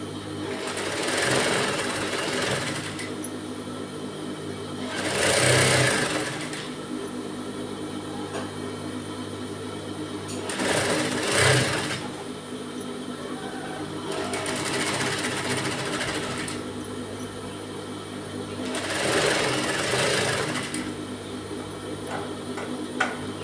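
Sewing machine stitching a thin dori thread pipe for fashion hangings, running in a steady continuous whir with periodic louder bursts of faster stitching, close and alone.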